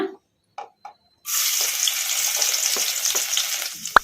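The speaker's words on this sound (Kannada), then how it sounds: "ಬೆಳ್ಳುಳ್ಳಿ ಹಸಿ ವಾಸನೆ ಹೋಗೋವರೆಗೂ ಫ್ರೈ ಮಾಡ್ಕೊಂಬಿಡೋಣ" Finely chopped garlic drops into hot oil in a kadai while cooking egg rice, and after a few faint taps a loud, steady hiss of sizzling bursts in and continues close up, ending with a couple of knocks.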